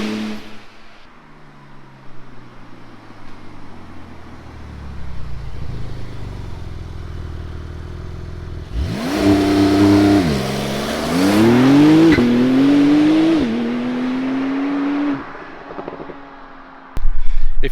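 A Porsche 992 Turbo S builds from a low idle into a hard launch, its engine climbing through several rising pitch sweeps with brief shift dips, loud and close before cutting off abruptly.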